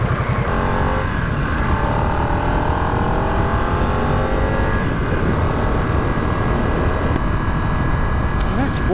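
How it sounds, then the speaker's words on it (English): A Harley-Davidson Nightster motorcycle engine drones steadily throughout a ride, loud and close, with rushing wind over it. "I think the biggest thing for me with a bike like this is always the sound"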